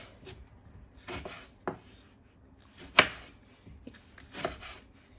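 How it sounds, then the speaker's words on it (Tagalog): A knife slices chili on a cutting board, a few separate close taps and cuts spaced irregularly, with one sharper knock in the middle and quiet pauses between. "And para sa chili naman, hiwain lang ganito."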